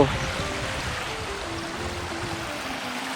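A Scottish waterfall on the NC500 route gives off a steady, moderate rushing hiss that stays even throughout, with a faint tonal hum drifting over the flow.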